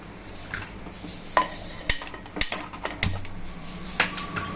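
A pressure pan set down on a kitchen stove, with a series of close, sharp metallic clanks and knocks spread over a few seconds.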